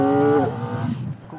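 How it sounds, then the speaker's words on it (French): Kawasaki ZX4-RR 400cc four-cylinder sport bike on its stock exhaust, a high-pitched engine whine that holds steady and then drops off partway through, close to the rider and fairly loud. "le moteur il est bien nerveux. On entend bien le bruit, ce qui est cool, même avec la ligne d'origine"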